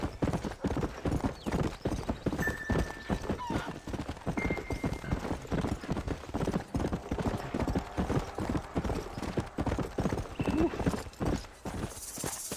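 Horse hooves clip-clop in a quick, steady rhythm in the video game Red Dead, close and continuous, with a brief whinny partway through.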